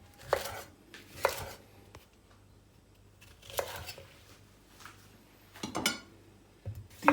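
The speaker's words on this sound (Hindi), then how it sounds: "इसी तरह हम तोरियां काट लेंगे क्यूब्स की शक्ल में" A knife cuts zucchini into cubes on a board in a kitchen. Several sharp, separate chopping strokes come in small clusters with quiet pauses between them, close and fairly crisp, with no talking.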